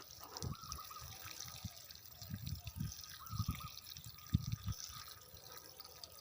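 Water is poured onto hard, dry clay soil around a newly planted papaya in the dry season, giving close, faint, irregular splashes and drips with soft thuds, and no one talking.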